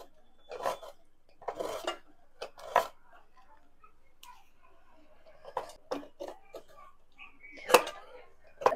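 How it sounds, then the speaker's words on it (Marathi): Jaggery rubbed against a kitchen grater in scattered short rasping bursts with quiet gaps between strokes, close and clear, alongside beetroot prep. "तसेच आता आपण गूळ देखील खिसून घेऊयात"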